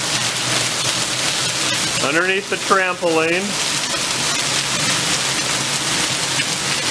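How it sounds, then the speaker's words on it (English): Intensely heavy monsoon rain pours down in a steady, dense hiss that fills the whole clip, with a person speaking briefly in the middle over the downpour. "Intensely heavy rain. Some of the heaviest rain I've ever seen."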